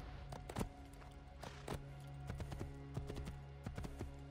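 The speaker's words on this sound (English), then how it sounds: "And that's a jumpy horse." Horse hooves clip-clopping in Assassin's Creed II, a steady run of hoof beats mixed in with constant game ambience and music hum.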